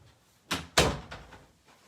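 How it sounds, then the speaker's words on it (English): A door pushed shut indoors, a brief shuffle of movement and then one close, solid thud that fades quickly. "let me close the door."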